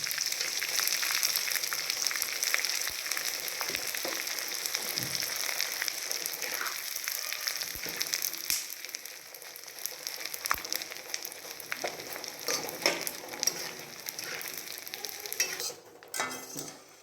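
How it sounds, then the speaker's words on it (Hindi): Finely ground edible gum fries in hot ghee with a steady, soft sizzle and crackle, stirred now and then with light scraping and clinks of a spoon against the pan, all close and fairly quiet with no talking. "अब एक घी भी गर्म है और वे पिसा हुआ गूंद इसके अंदर मैं तलता हूँ।"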